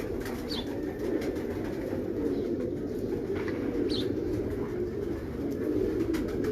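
Soft, low pigeon cooing repeats steadily against a constant background hum, with a few faint chirps from other birds now and then.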